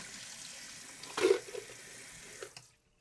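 Warm water runs from a sink tap while skate bearings are rinsed, a steady hiss with a brief splashing burst in the middle, then the flow shuts off and it falls silent.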